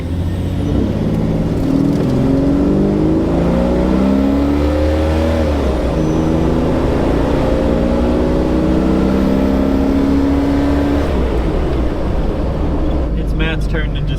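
A car accelerating at full throttle, its engine note climbing steadily in pitch through several gear changes, loud and sustained throughout, with people talking over it.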